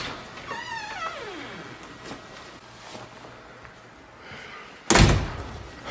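A front door slams once with a sharp, loud bang near the end, after a quieter stretch of faint room noise and a brief descending whistle-like tone earlier.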